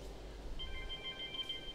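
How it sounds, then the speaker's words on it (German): A telephone rings faintly in the background with a quick trilling bell pattern, starting partway through and repeating softly over a low hum. "Und ihr hört es vielleicht, mein Telefon bimmelt im Hintergrund"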